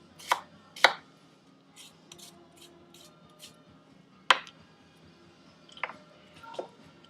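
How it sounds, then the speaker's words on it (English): A knife mincing half a shallot on a cutting board gives a few sharp, separate chops spread out with pauses between them, close and crisp against a quiet room. "Next, what I have here is half a shallot. Just going to go ahead and mince this up real fine."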